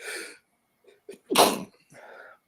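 A single loud sneeze up close, preceded by a sharp inhale and followed by a quieter breath.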